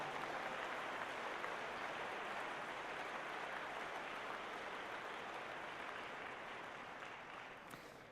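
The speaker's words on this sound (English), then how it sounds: "Let's give them all a big round of applause." A large crowd at the INF State Championship opening ceremonies claps steadily in a dense, continuous roar of applause that slowly tapers off toward the end.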